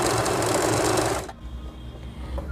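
A Usha Janome sewing machine runs fast and loud, stitching an interlock seam at a medium stitch setting for a little over a second, then stops abruptly, leaving a quiet room hum.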